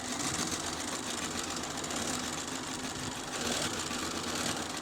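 A Bernina B570 QE sewing machine stitches fabric with a continuous, even, close-up whirring hum and no pauses or talking.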